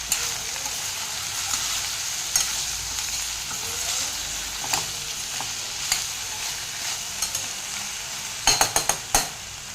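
Ivy gourd curry frying and sizzling in a pan, with a steady hiss and scattered scraping stirs, ending in a quick burst of sharper spatula clatters near the end; no voices.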